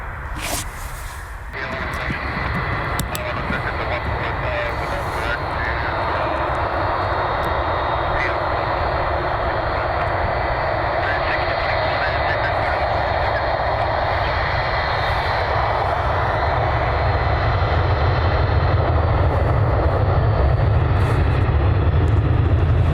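A United Airlines Boeing 757 rumbles steadily while landing and taxiing at Cleveland, a broad continuous engine roar that swells slightly toward the end, with a voice talking over it.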